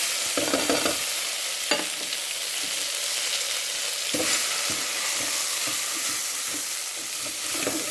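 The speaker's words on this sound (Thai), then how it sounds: "ตั้งน้ำมันให้เดือดแล้วเราก็จะใส่เครื่องแกงของเขาเนาะ" Curry paste stir-fried in hot oil for a beef and mustard greens curry: a dense, continuous close sizzle broken by sharp spatula scrapes and knocks against the pan.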